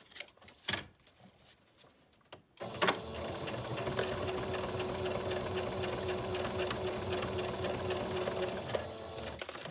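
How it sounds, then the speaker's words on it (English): After a few light clicks and taps, a sewing machine starts up and runs continuously at a steady, rapid stitching rhythm, close and fairly quiet. "Hopefully my sewing machine won't get too angry."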